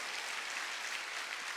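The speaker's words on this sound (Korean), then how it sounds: "깨달은 사람만 박수치라고." A church congregation clapping together during a Sunday service, a faint, steady wash of many hands heard from a distance, with no voices over it.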